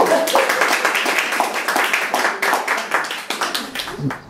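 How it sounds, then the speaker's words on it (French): Small group claps for guest star Bernard at an astrology session, steady close hand claps that thin out toward the end, with voices talking over them. "applaudissez la guest star"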